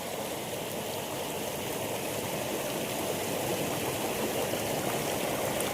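Peeled wild forest fruit is washed in water, a continuous close splashing and trickling rush that stays even throughout, with no talk over it.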